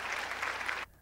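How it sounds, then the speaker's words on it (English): A short burst of applause from a small group, dense and fairly close, that cuts off abruptly after under a second. "A clap."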